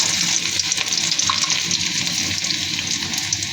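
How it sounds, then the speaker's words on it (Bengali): Chopped onions fry in hot oil with dried chillies, giving a loud, steady sizzle and crackle that runs unbroken throughout, with no voices. "পেঁয়াজ ভাজা হয়ে গিয়েছে"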